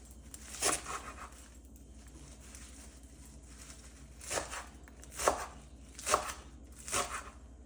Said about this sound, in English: I'll wash them and then I'll chop them.